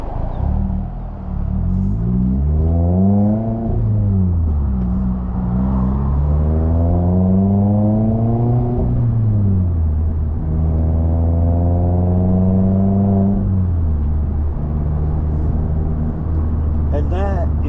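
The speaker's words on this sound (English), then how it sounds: "once you get your rev matching down, where you can drive without the clutch" An old-school manual car engine revs through rev-matched shifts without the clutch, each gear rising in pitch, dropping, then climbing again in a loud, close rhythm across several shifts, with a voice occasionally talking underneath.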